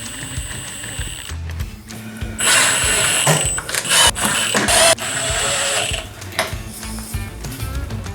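Ratchet wrench snugging bolts on an aluminum transmission cover of a Ram 2500 Cummins diesel, heard as bursts of rapid clicking with metallic clatter in a workshop, moderately loud with brief pauses between bolts.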